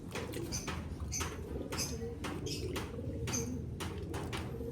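Pigeons kept at home cooing close by in soft, repeated low coos, with rustling and brief higher squeaky calls mixed in, the murmur continuous throughout.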